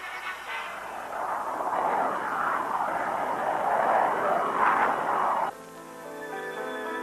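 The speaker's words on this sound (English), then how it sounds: "Hypersonic aircraft have been designed and built to fly to the dark edges of space." A hypersonic aircraft in flight gives a loud, steady, broad roar that swells slightly over about five seconds, then cuts off abruptly to a quieter, tonal background.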